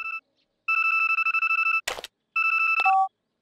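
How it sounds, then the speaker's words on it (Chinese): Cartoon telephone call signal from a mobile phone in Boonie Bears: two loud bursts of rapidly pulsing electronic ring tones, separated by a short clattering noise and ending on a falling beep. "怎么电话打不通啊？ 一直在通话中。"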